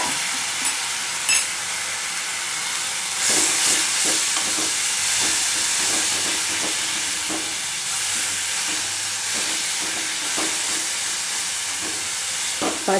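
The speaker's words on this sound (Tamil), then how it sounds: "பச்சை வாசனை போகிற வர நல்லா அவரைக்காவை வதக்குங்கோ" Steady sizzling of broad beans sautéing in coconut oil in a pan, with repeated stirring scrapes every second or so; no one speaks.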